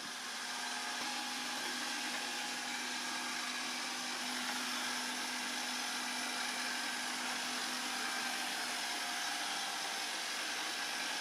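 A Narwal Freo Z Ultra robot vacuum mop runs near a cable, giving a steady, unbroken motor whir with a faint tonal hum that stays even and fairly quiet throughout.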